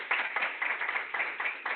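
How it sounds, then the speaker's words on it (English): Audience applause at a social studies leadership meeting, a steady patter of claps from a small group, moderately close and fairly soft, rising and falling in loose bursts with no talking over it. "Will you give Dion a round of applause, please"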